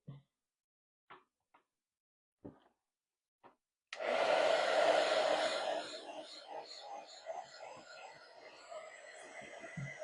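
A hair dryer switches on after a few faint taps and bumps, then blows steadily, loud and close, with a fluttering, slightly uneven roar that eases a little toward the end.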